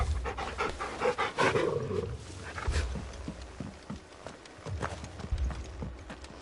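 Rhythmic, breathy dog panting in Final Fantasy XVI, with quick bursts of heavy breaths repeating close up over about six seconds, mixed with muffled game sounds.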